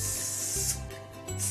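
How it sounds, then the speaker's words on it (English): Vegetable oil is sprayed lightly into a cast iron bread tin in short hissing bursts, with brief pauses between them, close and fairly loud with no speech. "So just a light spray of vegetable oil, just to coat it."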